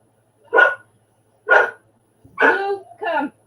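A dog, Blue, lets out four loud close barks, two separate then a quick pair, over a low steady hum.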